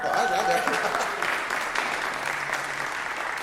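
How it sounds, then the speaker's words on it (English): An audience claps in a round of applause at an education talk event, dense steady clapping throughout with a voice briefly audible over it near the start. "Round of applause out there."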